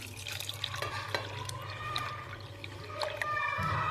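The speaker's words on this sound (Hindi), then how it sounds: "अब हम इसमें आधा किलो ही दूध ऐड कर देंगे।" Half a kilo of milk poured into washed chana dal for halwa, giving a close, continuous liquid splashing and trickling with small drips and no voices.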